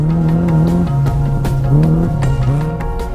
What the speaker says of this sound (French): Petite et sympathique, la petite Seat 124 des Espagnols Jaime Collel